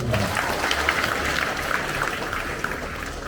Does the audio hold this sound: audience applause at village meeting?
yes